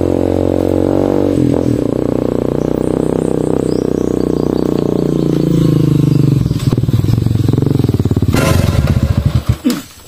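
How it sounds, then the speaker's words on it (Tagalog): A loud motorcycle engine at a roadside checkpoint roars steadily up close, revving and sputtering toward the end before cutting off. "Banha lagi imong motor do"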